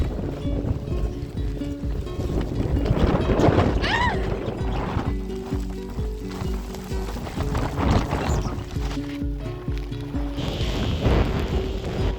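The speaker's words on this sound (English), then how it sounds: "it's raining a lot right now" Heavy rain with strong wind on a road trip to Kelowna, Canada, a dense continuous wash of noise with gusty swells and clattering, while people talk and exclaim over it.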